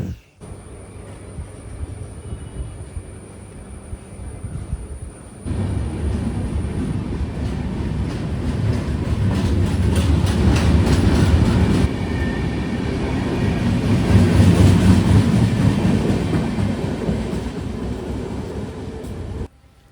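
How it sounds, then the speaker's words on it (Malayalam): The Netravati Express from Mumbai Lokmanya Tilak to Thiruvananthapuram rumbles into Vadakara station, its heavy rolling roar and wheel clatter swelling louder over twenty seconds as it draws close. "മുംബൈ ലോകമാന്യ തിലക്കിൽ നിന്ന് തിരുവനന്തപുരം വരെ പോകുന്ന നേത്രാവതി എക്സ്പ്രസ് ആണ് വന്നേക്കുന്നത്"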